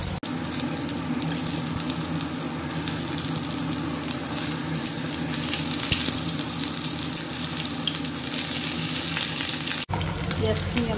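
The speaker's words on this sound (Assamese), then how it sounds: "পিঁয়াজখিনি অলপ ভাজি ল'ব লাগিব।" Onions frying in hot mustard oil in a home kitchen give a steady, close, crackling sizzle that runs without pause for about ten seconds, then cuts off abruptly into a short, similar stretch.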